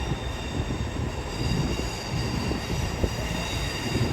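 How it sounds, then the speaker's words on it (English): A cross-country passenger train bound for Edinburgh rolls into Newcastle station with a steady loud rumble of wheels on rails and a faint high squeal, continuous throughout with no voices. "Next service arriving is a cross-country service off to Edinburgh."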